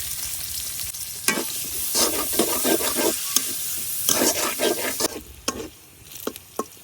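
Chopped onion and garlic frying in hot oil in a wok, a continuous crackling sizzle broken by repeated scraping stirs of a spatula, close and steady.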